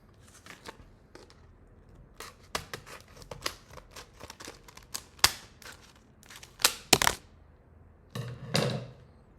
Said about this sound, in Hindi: मुझे इसको सीजर्स से ही काटना पड़ेगा